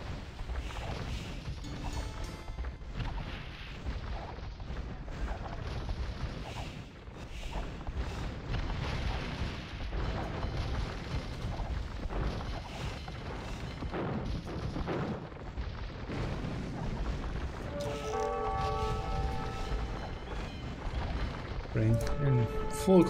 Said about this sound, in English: In full control here, now adding some lead cannon guns himself.